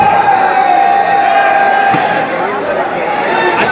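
A large crowd cheers and chatters steadily at the Bad Boys film audio launch inside Highlite Mall, a loud, dense roar with whoops rising over what may be background music.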